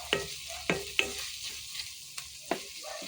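Corned beef sizzles steadily in a frying pan while a utensil scrapes and taps against the pan in several distinct strokes, close and clear, with no one talking.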